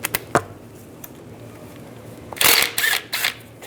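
Socket wrench with a 6mm hex socket loosening the pulley bolts on a power steering pump of a 1998-2010 Volkswagen Beetle; a few faint clicks early on, then a louder burst of rapid ratcheting and metallic scraping near the end.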